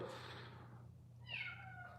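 A pet house cat meows once, fairly faint, over a steady low indoor hum in a quiet home in the morning.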